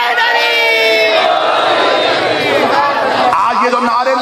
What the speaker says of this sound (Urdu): آج یہ جو نعرے لگ رہے ہیں نا، لبیک یا رسول اللہ